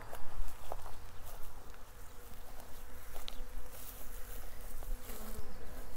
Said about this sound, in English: Got lots of bees here, so hope they don't sting me.